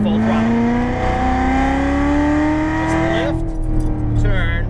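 A Corvette C7 on a track pulls hard at full throttle, its engine climbing steadily in pitch, then lifts abruptly; loud and close, with a brief higher squeal near the end.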